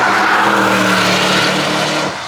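A McLaren with a V8 engine passes close by, a loud, steady engine roar with strong low harmonics that holds for about two seconds before easing slightly as it moves away.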